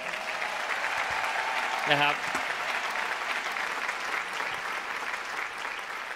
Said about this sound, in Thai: ปรบมือให้ตัวเองหน่อยครับผม